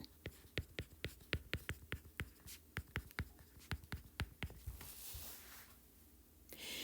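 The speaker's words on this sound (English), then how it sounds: "I'm going to write an equation and it's going to look strange" Hand writing an algebra equation, with a steady series of short, distinct strokes in quick rhythm, close and fairly quiet, followed by softer scratching and a brief rustle.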